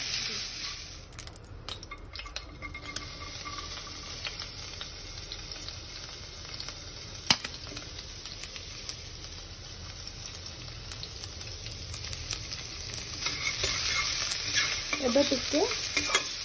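Sliced onions frying in a pan for vegetable chowmein, a steady soft sizzle with occasional spatula scrapes and stirring, and a few brief words spoken over it.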